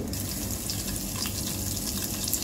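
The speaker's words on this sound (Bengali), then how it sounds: "এই যে একটু তেলের ভিতরে এখন আমি ডিমগুলো ছেড়ে দিলাম" Quail eggs fry in a little oil on a stove, giving a faint, continuous sizzle and bubbling with a few soft clicks.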